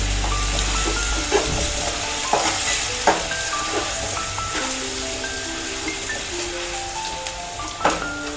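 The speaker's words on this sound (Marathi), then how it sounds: "चण्याला परतून घेते लाल होजेपर्यंत" Chickpeas stir-fried in a pan with cumin, curry leaves and a ginger-coriander paste, a steady sizzle broken by scraping stirs and occasional louder clacks of the spoon, close and continuous with no talking.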